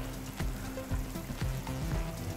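Chopped onions go into a simmering goussi sauce in a pan, raising a loud, continuous sizzle with several quick stirring scrapes and bursts spread through it.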